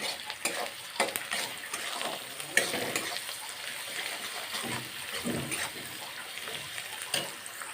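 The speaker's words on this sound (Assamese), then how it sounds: "পিঁয়াজ আৰু জলকীয়াখিনি হালধি আৰু নিমখ দি ভালকৈ ভাজি ল'লোঁ" Onions and chillies with turmeric and salt fry in hot oil for an Assamese home-style recipe, a steady close sizzle broken by repeated scraping stirs, with no talking.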